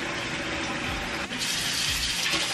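Hot water pouring steadily from a kitchen tap, a loud continuous gushing rush that brightens and thickens partway through as the flow changes, with no talk.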